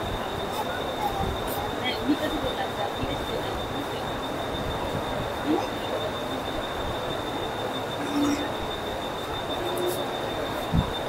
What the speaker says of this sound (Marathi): तुम्ही माझ्या मागे बघू शकता 10103 मांडवी एक्सप्रेस